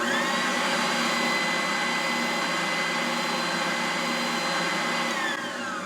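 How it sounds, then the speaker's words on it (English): Electric oscillating sander with a 5/8 inch travel, moving sandpaper up and down, running as a steady, loud, close mechanical whine and hum that holds level throughout and eases slightly at the end. "it keeps the sandpaper moving up and down"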